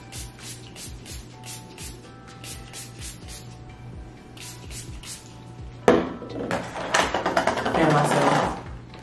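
Several generous bursts of Milani Make It Last setting spray hiss close by, arriving as a cluster of quick spritzes after a stretch of quieter background sound with talking.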